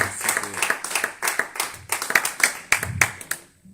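A church congregation claps along in brisk, steady rhythm, many hands together, with a few voices calling out over the applause.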